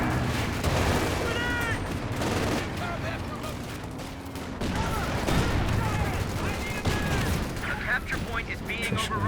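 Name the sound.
rocket artillery fire in the video game Company of Heroes 2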